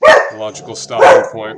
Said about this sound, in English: Apologize for my dog.